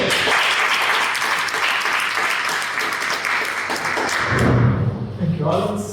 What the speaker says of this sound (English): so in a big round of applause, Luciano.